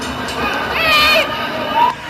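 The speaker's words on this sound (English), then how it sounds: "The pro-Trump crowd fought with the police" A pro-Trump crowd clashing with police makes a loud, dense roar of many shouting voices, with rising yells and cries swelling near the middle and end.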